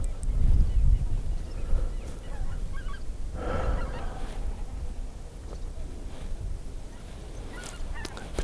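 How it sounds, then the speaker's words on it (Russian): Swans call out on the water, honking faintly at a distance over steady wind and water noise, with a low murmur beneath. "лебеди."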